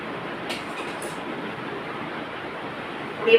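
A mixie mixer grinder runs in a home kitchen during chicken-and-rice cooking, giving a loud, steady whirring roar that holds without pause and swells briefly at the very end.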